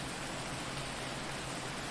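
Steady rainfall in a video game, a continuous even hiss of falling rain with no breaks, faint and alone.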